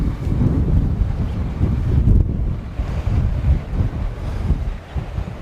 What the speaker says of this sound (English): If you can hear how the wind is blowing, it's phenomenal. It's very, very bad.